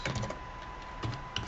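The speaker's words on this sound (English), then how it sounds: "if we actually start typing from the beginning" Quiet typing on a computer keyboard, a few quick soft key clicks in short bursts separated by a brief pause, close and faint.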